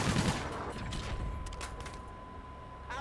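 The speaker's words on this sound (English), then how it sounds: "I'm just paranoid and shooting at my own teammates now" Gunfire from Call of Duty: Infinite Warfare multiplayer, a quick burst of shots at the start followed by scattered cracks and mechanical clatter in a busy game soundscape.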